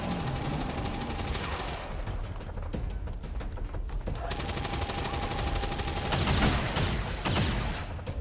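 Sustained suppression fire in the video game XCOM 2 sounds as rapid bursts of automatic gunfire with mechanical clatter, loud and repeated across the whole stretch.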